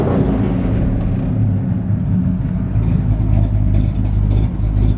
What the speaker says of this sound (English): Great sounding engine.